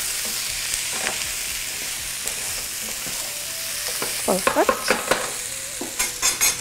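Potatoes sautéed with onion, oil, spices and curry crackle under a continuous sizzle, while rhythmic spoon scrapes and clatter build in the second half and a voice speaks briefly.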